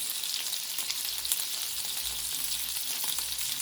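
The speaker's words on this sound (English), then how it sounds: "So I'll just gently start flipping the ball so that they cook both sides" Meatballs frying in a pan as they are gently flipped, an even, close crackling sizzle with small clicks from turning them, no voices.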